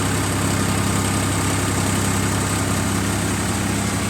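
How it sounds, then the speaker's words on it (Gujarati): A tractor engine runs steadily at idle, a deep low throb from the silencer with constant vibration and no breaks, close and loud throughout. "સાયલેન્સરમાંથી અવાજ આવે એટલે એવું લાગે કે ટ્રેક્ટર તાકાત કરે છે"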